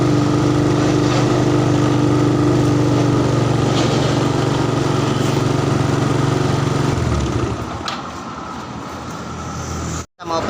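A Yamaha Mio carburetor scooter engine idles too high, running fast and steady up close with no throttle applied, then the tone drops and roughens toward the end before a brief cut-out.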